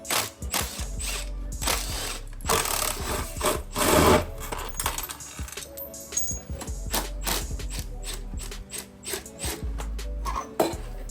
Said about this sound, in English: So I can remove the bolt that secures that big old muffler.